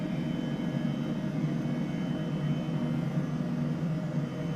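A steady, droning H135 helicopter engine in Microsoft Flight Simulator hums continuously at an even level, with a constant whir and no pauses or other sounds.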